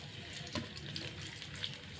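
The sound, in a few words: sautéing sliced shallots in hot oil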